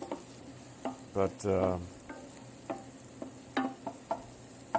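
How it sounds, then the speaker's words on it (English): Onions, celery and carrots in a pan, with a brief sizzle and scraping stir, then scattered soft clicks and taps of a utensil; quiet and close, with a single spoken word. "got the onions, gonna throw in the celery, throw in the carrots, get that stirred"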